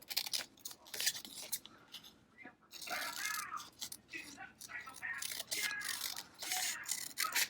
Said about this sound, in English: first I'm just going to trim this a little bit